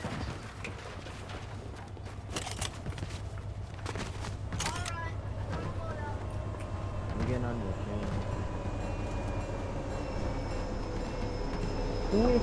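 A train in the Fortnite video game rumbles along with a low, steady rolling drone, and high metallic wheel squeals cut in over the first few seconds before it settles into a continuous ride. Voices can be heard faintly in the mix.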